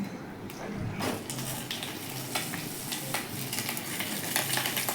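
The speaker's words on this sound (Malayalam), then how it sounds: "ഇതുപോലെ പാനിൽ നമുക്ക് ആ വാഴയിലയിൽ കെട്ടിവെച്ച അയില മീൻ 2ഉം നമുക്ക് ഇതിലേക്ക് വെച്ച് ചുട്ടെടുക്കാം" Mackerel parcels wrapped in banana leaf roast in a pan, giving a steady close sizzle and crackle throughout with a few scrapes and light clinks of utensils.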